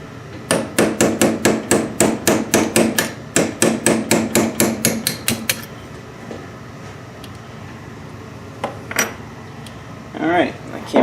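A hammer strikes a punch to drive a pin out of a Bridgeport mill power feed, ringing metallic blows in two quick rhythmic runs of about a dozen each, close and loud, followed by scattered clanks and shuffling.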